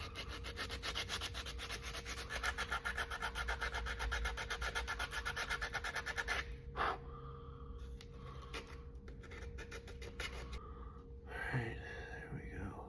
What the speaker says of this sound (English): Chamfered bait, sandpaper, 80 grit specifically.